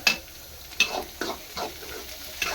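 Onions browning with spice powder in a pan, giving a steady close sizzle and fry broken by several sharp scrapes of a stirring spoon at irregular intervals, with no voices.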